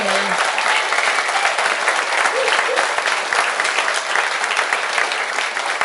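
A live audience gives loud, dense, sustained applause for musicians at a music show, a continuous wash of clapping from start to finish.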